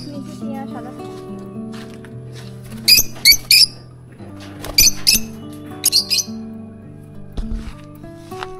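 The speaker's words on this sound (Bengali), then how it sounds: "প্রচুর পাখির কিচিরমিচির আমি শুনতে পাচ্ছি।" Many small caged birds chirp and squawk in short bright bursts, near and fairly loud, over a steady hum and low background tones at a seaside hotel in Bakkhali.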